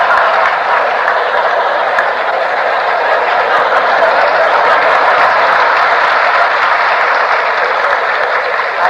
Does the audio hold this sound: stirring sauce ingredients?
no